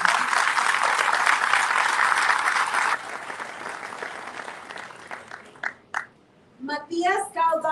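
Strong audience applause at an anniversary ceremony for Navistar's Escobedo plant, a loud sustained burst of many hands clapping that thins out and tapers off before an announcer's voice resumes.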